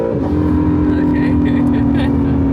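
Honda NSX engine at full throttle on a Japanese mountain touge road, a loud sustained in-car drone that holds a steady pitch, with a voice speaking over it.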